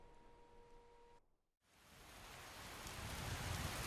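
Evening rain in Skyrim with the Obsidian Weather mod: a soft, steady hiss of rainfall that briefly cuts out, then returns and swells louder, with no voices.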